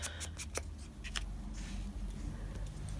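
Pinking shears snip around card stock at close range, giving a few quick crisp cuts over a low steady background hum, with no talking.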